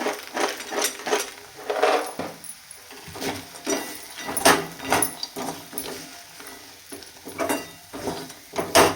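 Soybeans roasting in masala in a pan, irregular scraping and stirring clatter with light sizzling, near and moderately loud, no talking.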